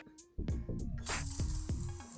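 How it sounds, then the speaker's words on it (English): Whipped cream sprayed from an aerosol can onto a homemade holiday coffee drink, a close hissing spray in several short bursts with sputtering pulses. "take some whipped cream, and then I just spray that right on top"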